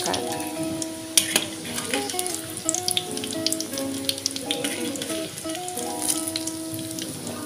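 Breadcrumb-coated tempeh fries in hot oil, a steady close crackle and sizzle with scattered sharp pops, joined by clinking pan and utensil sounds and a faint background tone.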